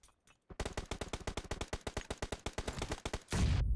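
Rapid automatic gunfire in PUBG Mobile, a fast burst of about thirty loud evenly spaced shots after a couple of faint pops, ending in a sharp explosive blast.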